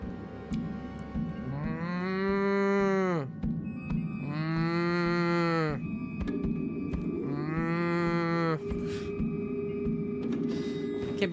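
A man imitates a cow with three long, drawn-out moos, each swelling and then tapering off, loud and close with short pauses between them.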